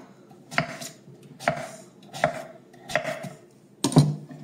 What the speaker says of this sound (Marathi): आता बाकीचा भोपळा मी चिरून घेते